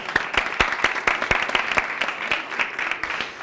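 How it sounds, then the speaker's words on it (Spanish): An audience at a sign-language presentation applauds, crisp claps at a steady, fairly even rhythm for several seconds with no talking over them. "un aplauso para el que lo saca"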